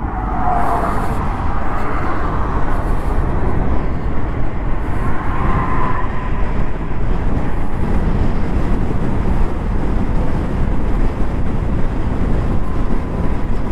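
An Ola S1 Pro electric scooter accelerates hard in hyper mode: a loud, steady rush of wind and road noise with a faint rising motor whine, continuous throughout with no talking.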